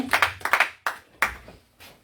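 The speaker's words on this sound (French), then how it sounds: "On applaudit le Seigneur de gloire" Church congregation clapping, a few separate hand claps and short bursts at close range, sparse and irregular, after a call to applaud the Lord during a French-language service.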